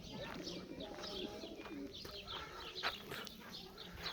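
Soft, low coos of a breeding pigeon repeat under steady ambient noise, with a few chirps and rustles mixed in.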